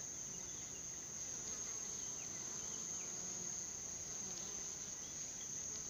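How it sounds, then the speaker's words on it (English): Scout bees flying in and out around a swarm trap outdoors, a continuous high, thin buzzing drone that stays faint and steady throughout, with no voices. "I saw there was scout bees checking out the trap going in and out."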